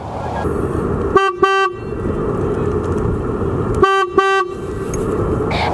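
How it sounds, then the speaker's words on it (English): Two pairs of short, bright horn honks from a 2022 Polaris Slingshot sound over its steady idling engine, loud and close, with a pause between the pairs. "Have a listen to this horn."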